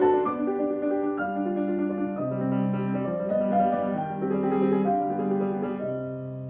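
Solo piano plays a chordal passage shifting from major to minor harmony in strict, even time, sustained chords changing steadily at moderate volume with no voices.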